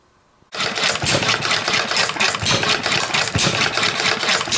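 An early Ervin hit-and-miss engine runs close by with a steady, loud mechanical chugging and clatter that continues without pause after a sudden start.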